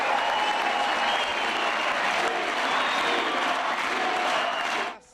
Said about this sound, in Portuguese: Já Dilma chegou a ser aplaudida em alguns momentos.